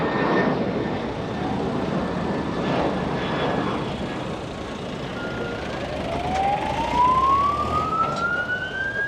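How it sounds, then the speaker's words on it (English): A Guardia Civil car siren wails with a rising, sweeping tone over steady traffic rumble in Playa Honda, Lanzarote, growing louder toward the end. "you weren't deafened by the sirens of the Guardia Civil car and the two motorbikes"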